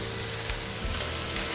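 Chicken sizzling in a hot pan as it is flipped, a continuous close frying hiss with brief stirring bumps, no talk.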